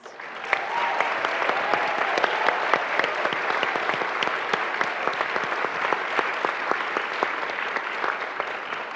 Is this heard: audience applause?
yes